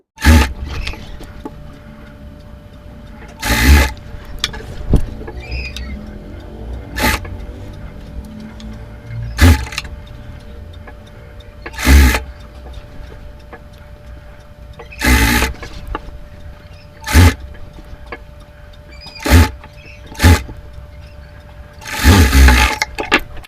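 A sewing machine stitches frills onto a full-length long frock with full sleeves, running in short, loud bursts separated by quiet pauses across the whole stretch.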